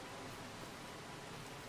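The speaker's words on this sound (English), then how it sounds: "It just started getting rainy." Steady rain in Farming Simulator 25, a dense even hiss of falling water that fills the short stretch without any break.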